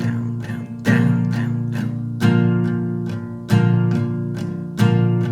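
Acoustic guitar with a capo strummed in steady down-strokes, bright chords ringing over sustained low tones, with firmer accented strums recurring about every 1.3 seconds in a triplet feel, close and alone without voices.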